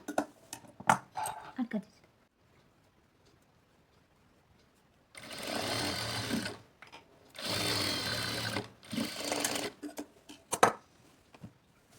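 Sewing machine stitching blouse fabric in a plus-sign pattern, running in three loud, steady bursts of a few seconds each, separated by short pauses and quieter clicks and handling noises.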